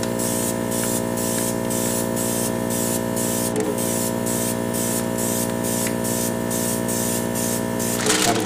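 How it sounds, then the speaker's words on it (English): An airbrush sprays paint onto a Type 10 main battle tank scale model with a loud, steady hiss, pulsing slightly, close up with no talking. "Now, you don't want to get too close with the airbrush."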